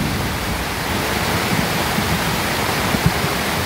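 Swollen river close to overflowing its banks, a dense continuous rushing roar of fast water, loud and near, with a few faint splashes breaking through.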